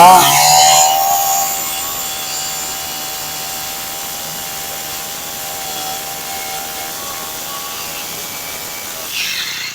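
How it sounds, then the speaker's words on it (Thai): A repaired Honda lawn mower engine runs at a steady, raised idle throughout, a droning tone with a faint mechanical rattle, loud at first and then holding level with a slight swell near the end. "ลองเร่งดู ลองเร่งเครื่อง ลองฟังเสียงดูนะครับ"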